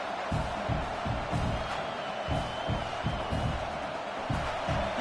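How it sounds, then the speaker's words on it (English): Football video game stadium crowd cheering and roaring steadily at low level, a broad continuous wash of noise with rhythmic thumping pulses underneath, distant and fairly faint. "Wow, listen to this crowd noise. This stadium is vibrating."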